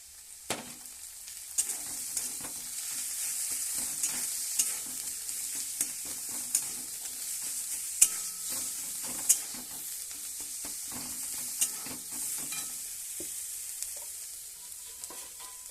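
Taro leaves cook in oil in a pan with a continuous bright sizzle and crackle, punctuated by sharp spatter pops and occasional stirring clinks, close and unaccompanied by talk.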